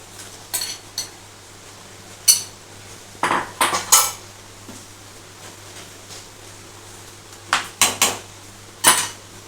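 A spoon clinks and scrapes against a metal pot while milk is mixed into makhana kheer, in scattered bursts of clatter separated by quiet pauses.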